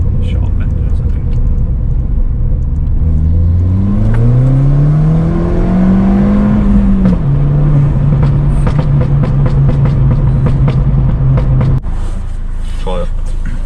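A Ford Fiesta ST with a TRS Stage 2 tune at 250 bhp revs hard through a gear run, the engine note rising and falling before settling into a steady drone, with cabin rumble throughout.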